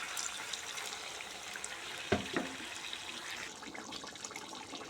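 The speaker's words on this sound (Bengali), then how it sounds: "এবার আমি একটু পরিমাণ জল দিয়ে দিব।" Water is poured into a pot of browned desi chicken curry, a quiet, steady splashing trickle with a brief louder splash partway through and soft sizzling behind it.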